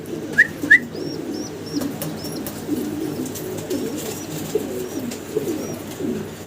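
Fancy pigeons coo in soft, repeated low murmurs in a loft, with a couple of brighter chirps early on and faint short calls scattered over a steady background hum.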